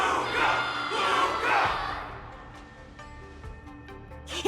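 Crowd in Honkai: Star Rail cheering loudly at a Luminary Wardance battle, the roar swelling over the first two seconds then fading, leaving quieter murmurs and scattered sounds.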